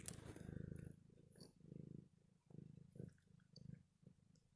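A cat purrs right up close to the microphone, a steady rumbling purr in rhythmic pulses with brief pauses between breaths, loud and continuous for several seconds with no talking.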